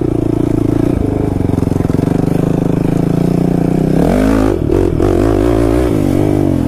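Kawasaki KFX 450R quad revs hard as it pulls into a wheelie, a loud, close, buzzing engine note holding steady and then wavering through throttle blips and dips.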